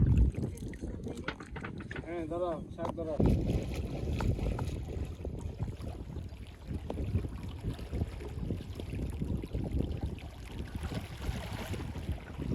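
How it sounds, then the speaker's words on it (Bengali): A boat glides across a wetland, with steady water wash and wind buffeting the microphone throughout; a brief voice-like tone rises near the start. "বহু বছর পর আমরা নৌকা দিয়ে একটু এরকম বিলের মাঝে ঘুরলাম।"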